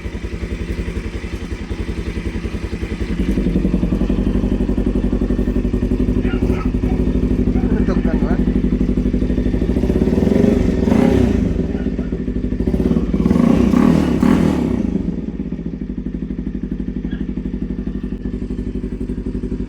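A Bajaj NS200 motorcycle engine idles steadily after a tune-up, with light valve ticking in a constant mechanical clatter and two short bursts of revving near the end, heard up close while someone speaks over it.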